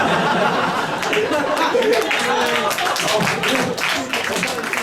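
Audience at a live comedy show clapping and chuckling steadily throughout, a close, dense patter of hands mixed with scattered laughter and murmuring.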